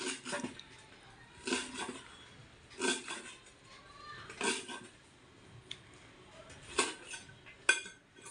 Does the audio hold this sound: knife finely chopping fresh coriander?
yes